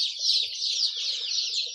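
Young chicks at a farm selling Andijan black hens give a dense, continuous high peeping chorus, with a few softer lower clucks beneath, close and without talk.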